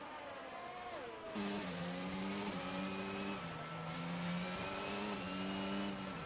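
Race car engines in a Formula-style racing game rise and fall through quick upshifts as cars head into the pits. The sound is loud and continuous, with stepped pitch changes and no talking.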